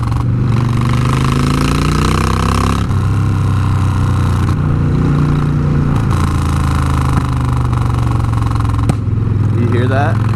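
A Yamaha R6 motorcycle with its exhaust pipes fallen off, the engine droning loudly and up close through revs and a downshift, with occasional sharp pops from the open exhaust as someone talks over it.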